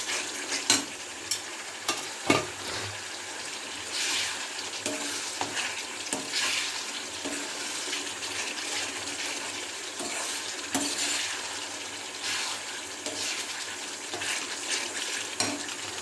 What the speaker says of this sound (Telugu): చూడండి, మన నూనె పైకి వచ్చేస్తుంది. మనకి అల్లం వెల్లుల్లి పేస్ట్ బాగా వేగింది.